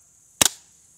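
A suppressed .22 pistol fires a single shot, a short sharp crack with a quick double peak followed by a brief decaying tail, fairly close and alone against a faint background.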